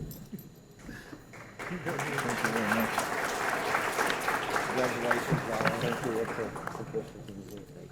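Audience applause at a university graduation hooding ceremony, a sustained burst of clapping from a crowd that swells, holds for several seconds and then fades.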